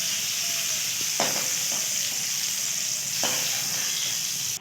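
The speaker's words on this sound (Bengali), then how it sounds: "পটলগুলো লাল লাল করে ভাজা হয়ে গেছে" Pointed gourds frying in hot oil in a pan, a steady close sizzle with two sharp spatula scrapes against the pan.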